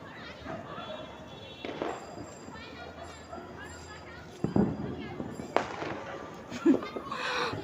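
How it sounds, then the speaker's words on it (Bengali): Firecrackers burst in a handful of sharp cracks and pops during a Diwali night celebration, some near and loud, others farther off, with voices chattering throughout. "বাবার মেয়ে মিলে এখন বাজি ফাটাচ্ছে"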